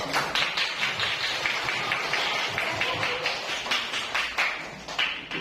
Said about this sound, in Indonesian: Tepuk tangan untuk grup visual